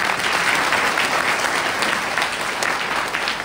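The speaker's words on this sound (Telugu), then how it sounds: "చప్పట్లు చెందాలి, గట్టిగా కొట్టాలి" Dense applause from an audience at a religious discourse program, steady and sustained throughout with no voices rising above it.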